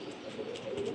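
Pigeons coo softly nearby, a low steady warbling murmur lasting about a second with no other sound.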